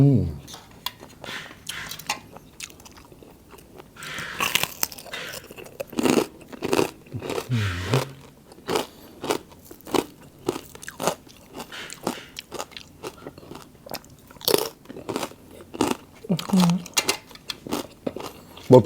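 Someone bites into crispy pork and chews it, with loud, close crunches in irregular bursts, alongside a few clinks of cutlery and dishes. A person talks intermittently.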